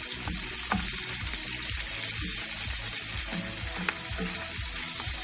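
Garlic sizzles and fries in butter in a hot pan, a loud continuous crackling hiss with occasional stirring sounds and no voices.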